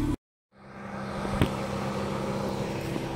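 A car drives in to arrive at a weekend gathering in Blaufelden. After a brief silent gap, steady engine and road rumble builds and holds, with one soft thump partway through.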